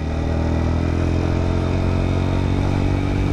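A motorcycle engine roars close and loud during a lively ride, its constant drone rising and revving without pause and with no voices over it.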